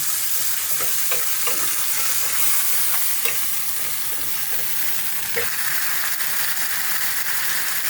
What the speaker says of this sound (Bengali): মশলাটা ভালো করে আমি একটু কষিয়ে নেব।